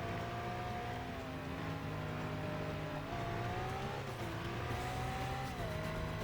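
Continuous car engine roars and shifts pitch while driving in the stunt-driving video game Stuntman, steady and loud throughout with rising and falling revs as it weaves near oncoming traffic.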